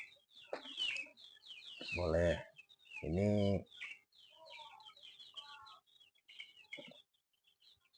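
Free-range village chickens cluck and squawk while being fed a rice mixture, with two loud, longer calls standing out among scattered clucks and a person speaking close by.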